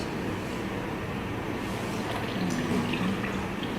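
Running tap water rinsing plant pieces during surface sterilization, a constant broad splashing flow close by, steady throughout with no voices.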